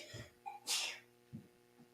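A single sharp sneeze, preceded by a quick intake of breath, close and fairly quiet, with faint breaths around it.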